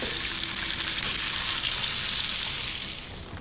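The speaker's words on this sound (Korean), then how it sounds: "얼른 냉동고에서 브로콜리 한 줌을 꺼내서 후라이팬에 던져 넣는다." Frozen broccoli fries in a frying pan with a loud, steady sizzle heard close up, fading a little toward the end, with no talking.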